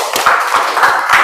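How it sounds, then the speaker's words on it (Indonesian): A classroom group gives a brief round of applause, with quick, scattered hand claps bunched together over about a second. "beri tepuk tangan yang meriah"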